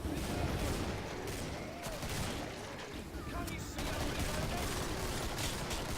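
Rapid bursts of gunfire from the video game Killing Floor, dense and continuous with booming shots layered over a noisy battle din, with some speech-like sound mixed in.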